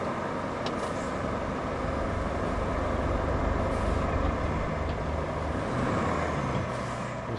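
Heavy truck in the RoadCraft video game turning around, a steady loud engine rumble with brief airy hiss bursts like air brakes, continuous throughout with no talk.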